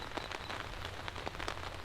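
Rain patters steadily and close on a campsite shelter, a dense hiss of drops with small taps scattered through, with no talking.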